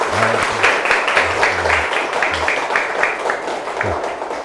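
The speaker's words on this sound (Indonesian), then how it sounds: "Marilah kita beri semangat dengan tepuk tangan yang meriah" A class of children claps together in a classroom during a maths lesson, producing brisk, fairly loud rhythmic clapping with a few young voices mixed underneath.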